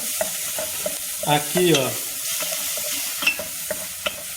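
Onion sautés to golden in a pan, giving a steady close sizzle with regular spoon scrapes and taps as it is stirred, and a brief spoken phrase partway through.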